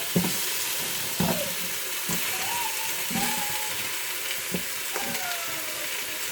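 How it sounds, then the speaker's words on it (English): Carrots dropped into a pot where beef has just been seared, a steady sizzle broken by several sharp knocks and clatters at irregular intervals, with faint squeaky scrapes in between and no one speaking. "So I'm gonna throw my carrots into the bottom since they're gonna be the toughest ones to cook."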